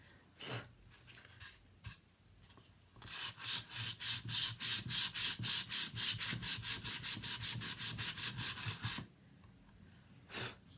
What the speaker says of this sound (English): I really like scuffing up the ends and the sides.